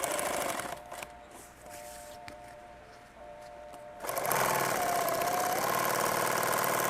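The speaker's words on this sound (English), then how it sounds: "We're just sewing these back to back" A sewing machine stitches two fabric pieces back to back for a tactical coffee pouch, running as a fast continuous mechanical whir, slowing in the middle and then speeding up loud and steady.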